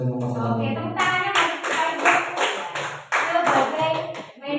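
Applause from a group during a positive school culture workshop for teachers, a burst of clapping hands that starts after a moment of talk and continues in waves, moderately loud.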